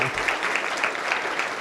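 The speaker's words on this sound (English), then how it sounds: "a round of applause for all of our recipients in this group and the original group" Audience applause at a university humanities and global studies spring award ceremony, a steady dense clapping that fills the whole short stretch at close range, with no voices over it.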